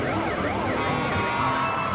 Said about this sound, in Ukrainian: а назустріч поспішає гасити пожежу пожежна машина